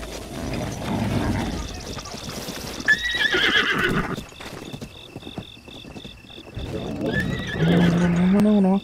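A horse in the Zelda game whinnies in short rising bursts, with hoof clip-clops and chirping crickets behind, while someone talks and grumbles over it.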